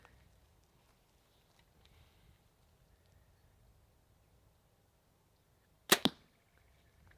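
A 476-grain arrow tipped with a Sevr HD broadhead, fired from a bow at close range, strikes a target with one sharp, loud impact thump followed by a brief rattle, after several seconds of near silence.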